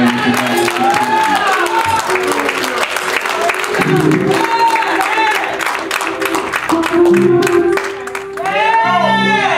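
A crowd applauds and cheers in support of a singer, with steady clapping under whoops and shouted encouragement, and excited voices calling out throughout.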